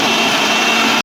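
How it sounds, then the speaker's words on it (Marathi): A kitchen mixer grinder whirs loud and steady, blending cream with curd for homemade ghee, a constant motor roar that cuts off abruptly at the end. "आता आपल्याला हे मिक्सरमध्ये छान असं बारीक करून घ्यायचं आहे."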